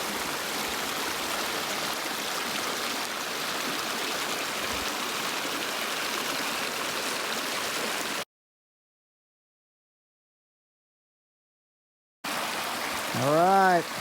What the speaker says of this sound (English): just crossed Whitney Creek. There were a lot of rocks there, so I was able to go across it.